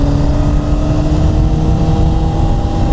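A motorcycle engine runs loud and close with a steady, rough droning rumble that holds its pitch throughout, and no revving swells are apparent.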